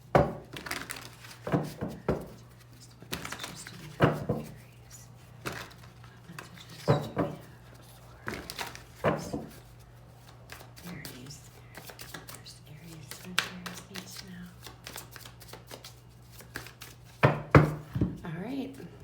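A tarot deck being shuffled, with soft riffling and card-slapping bursts scattered across the stretch over a low steady hum, while a voice speaks intermittently close by.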